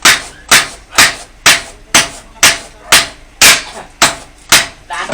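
A hammer strikes a concrete hollow block about ten times in an even, rapid rhythm, each blow a sharp, loud, close knock.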